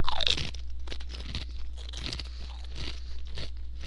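Black Pepper Jack Doritos chips crunched and chewed close up in repeated crisp bites over a steady low hum.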